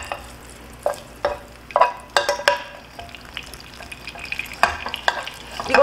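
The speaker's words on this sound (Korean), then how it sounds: "그리고 나서 춘장을 볶아 사용을 합니다" Chunjang black bean paste being stir-fried in a pan, a soft bubbling sizzle punctuated by sharp, irregular clicks and taps of a utensil against the pan.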